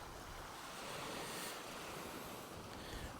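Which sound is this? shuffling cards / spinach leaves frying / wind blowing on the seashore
wind blowing on the seashore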